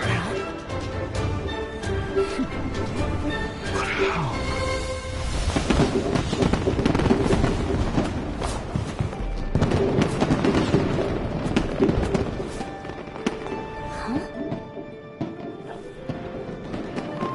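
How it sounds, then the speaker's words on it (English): Repeated booming fireworks bursts and crackling explosions fill a video game festival event, dense and loud with overlapping blasts and rumbling throughout. "Fireworks show?"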